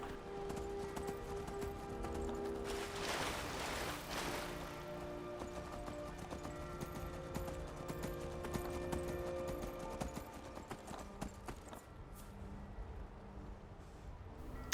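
Horse hooves clip-clop steadily in the game Skyrim, carrying an armored rider across open ground, with a continuous rhythmic patter over a busy backdrop of game music and ambience.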